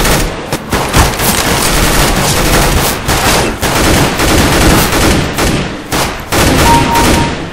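Rapid bursts of automatic gunfire from the video game CS:GO, loud and dense across the whole stretch, with brief pauses between volleys and no talk over them.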